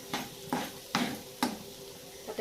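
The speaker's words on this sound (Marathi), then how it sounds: "आपला कांदा चांगला परतून झालेला आहे" Chopped onion sautéing in a pan is stirred with a utensil, producing about five evenly spaced scraping clacks against the pan over a faint, soft sizzle, with no talk.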